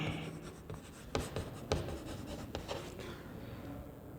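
Pen or chalk scratches out words during a classroom English lesson, a soft continuous scraping with a few sharper taps as strokes begin.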